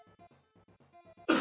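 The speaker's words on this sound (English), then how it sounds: "Let me get a few coughs out quickly." A string of short, quiet coughs and throat-clearing bursts from someone who vapes, about eight rapid hacks in close succession, ending in a louder harsh exhale.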